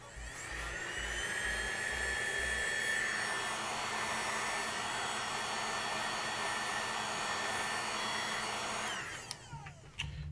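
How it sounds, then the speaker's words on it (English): A hair dryer blows a steady, loud whir for about nine seconds over freshly painted Warhammer Space Marine miniatures, then switches off and whines down at the end. "Thank you, hair dryer. You are done."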